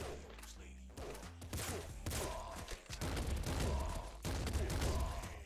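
Rapid bursts of gunfire from the Golden Splinter Gun in the video game Nuclear Throne, a dense crackle of overlapping shots and thumps with brief pauses, loud and close throughout the short stretch.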